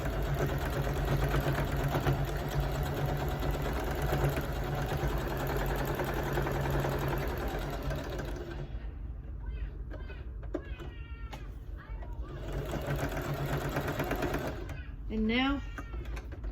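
A sewing machine stitches a quilt block with a steady whirring hum for about eight seconds, stops while someone speaks, then briefly resumes near the end.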